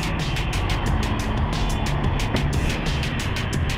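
Yamaha MT-01 motorcycle with its big V-twin engine running loud and steady through twin exhaust pipes, a dense continuous rumble that stays close for several seconds with no talk.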